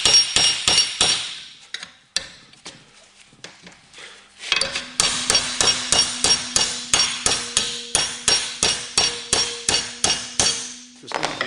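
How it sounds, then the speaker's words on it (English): A hammer strikes a cold chisel against a steel plug weld in a rapid, steady series of sharp metallic blows. A few scattered hits come first, then a sustained run of regular strikes with a ringing tone, loud and close, with no talking. "I'm going to use a cold chisel, called the cold chisel because it's used for cutting cold steel"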